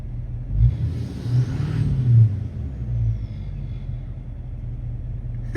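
Deep idling rumble from the exhaust of an L5P Duramax diesel truck, heard close, with a few low surges before settling into a steady drone.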